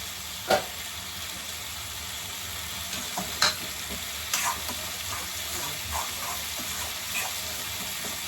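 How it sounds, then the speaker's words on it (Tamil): Onions fry in a pan for prawn thokku under a soft, steady sizzle, with a few sharp clinks and scrapes from stirring scattered through it and no one speaking. "எறா தொக்குக்கும் வெங்காயம் நல்லா வதங்கிடுச்சு."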